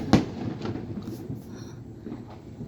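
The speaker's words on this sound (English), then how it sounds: "Oh, fireworks." One sharp firework bang pops up close, followed by a few fainter distant crackles and booms across a Florida sky on the Fourth of July, with thunderstorm lightning nearby.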